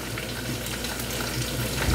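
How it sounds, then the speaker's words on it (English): Continuous hissy, bubbling rush of water pouring and draining from a cooking pot of chicken, steady throughout with no voices. "let's open this a little bit so we can drain some water out of it"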